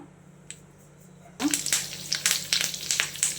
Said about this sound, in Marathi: आता हिला आपण तडका देऊन घेऊया तेल घातलेलं आहे मोहरी घालूया थोडंसं हिंग घालूया